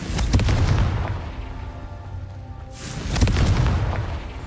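Two heavy booming blasts from the Confringo spell in Hogwarts Legacy, each one loud and rumbling, separated by a quieter lull, with no talking.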